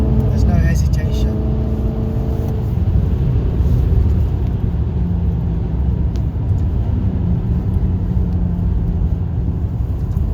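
A Maserati Quattroporte engine pulls at 70 mph in sixth gear, giving a steady, loud low rumble with road noise throughout and people talking over it.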